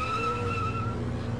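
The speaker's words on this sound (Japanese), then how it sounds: "私はアクセルを踏み込んだ" A car engine revs up in the video game Shin Hayarigami, giving a brief, steady tonal whine with layered harmonics and a faint tire-skid edge, heard on its own.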